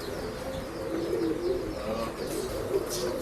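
Breeding pigeons coo in soft rolling phrases at close range inside a Bangalore pet shop, with faint chirps in the background.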